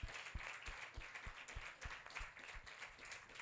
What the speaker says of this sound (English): please let's make welcome Mrs. Doyinsola Ola. A round of applause.